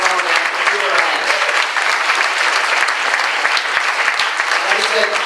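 A crowd at a Conservative Party victory reception applauds a candidate, with steady, loud clapping and cheering that continues without a break.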